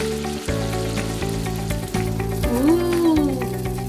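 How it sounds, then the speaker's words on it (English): Mango malpuas fry in a pan over a low flame, giving a constant close sizzle beneath background music with sustained tonal notes. "Cook the malpuas on low flame, and once they turn golden brown"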